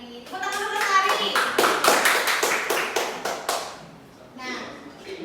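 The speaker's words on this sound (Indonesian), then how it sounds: "Tepuk tangan dulu Lestari." A classroom group claps in a short, brisk burst of distinct hand claps lasting a few seconds, close and clear, followed by a brief fade and some talking.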